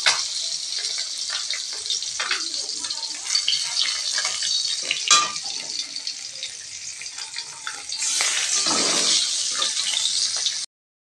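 Shing catfish fries in hot oil in a home kitchen, a continuous bubbling sizzle with scraping stirs and turning sounds, swelling louder near the end before cutting off.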